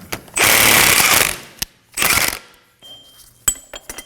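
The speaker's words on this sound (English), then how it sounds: "I'm going to be using a 22mm socket with a specialty ball joint removal tool" A ratchet with a 22mm socket and a ball joint removal tool works on a 2016-2020 Kia Sorento control arm bushing, giving two loud bursts of rapid mechanical clicking followed by metallic clinks and taps.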